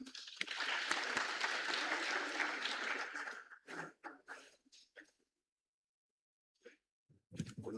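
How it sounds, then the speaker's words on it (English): A conference hall audience of school principals bursts into dense, loud applause for an arriving professor. The clapping lasts about three seconds, then thins to a few scattered claps and falls silent. "Let's give a hand clap."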